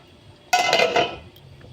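A metal lid clanks down onto a pan of palak paneer gravy on the stove, one bright clattering hit with a short ringing tail, close by in a quiet kitchen.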